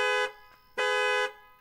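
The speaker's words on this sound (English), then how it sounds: "this alarm needs to shut up now" Alarm blaring in the video game Thief Simulator: two loud sustained electronic honks, each about half a second long, with a short gap between them, close and harsh.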